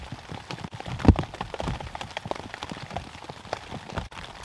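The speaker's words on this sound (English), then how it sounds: "Still raining a little bit," Rain eases after a storm, pattering and dripping irregularly on a nearby tarp in the bush, light and uneven, with one sharper knock early on.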